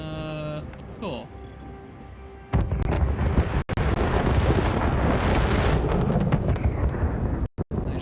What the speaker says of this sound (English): Oh, hey, the fireworks!